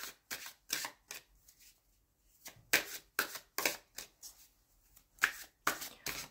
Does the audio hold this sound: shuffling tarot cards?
yes